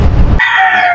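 A rooster at a game farm on Mount Banahaw, where fine gamefowl bloodlines are kept, crows in a loud, close burst that rings on with sustained harmonic tones after a sharp onset.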